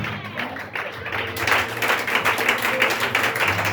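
A church congregation breaks into applause acclaiming the Lord, a dense, sustained wash of clapping that swells after a quieter start and continues steadily.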